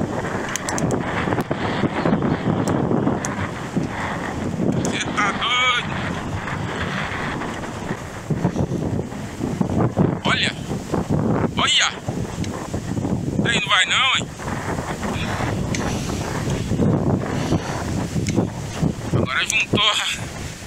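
Strong wind roars and buffets the microphone throughout a mountain bike ride on a sandy route between Uberlândia and Indianópolis, a steady loud rush with gusty surges, while a voice speaks intermittently underneath.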